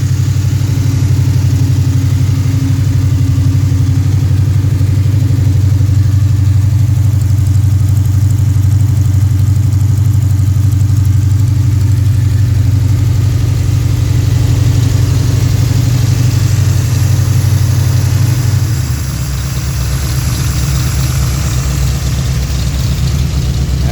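A Pontiac 428 V8 with three two-barrel carburetors idles at about 900 rpm, a loud, steady, deep rumble heard up close that drops slightly in pitch and loudness near the end, with no talking.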